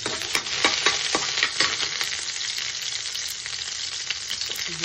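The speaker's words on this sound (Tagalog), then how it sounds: "Isusutay muna natin yung hipon" Shrimp sauté in a hot pan for chopsuey, giving a dense, close, steady sizzle with occasional crackles and stirring scrapes, and no talking.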